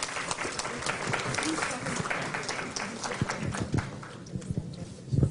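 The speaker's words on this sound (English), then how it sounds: "Another round of applause, please." Applause from a Hindu temple audience in Chicago after a swami's speech, a dense burst of clapping with some louder, closer claps and a few voices underneath, tapering near the end.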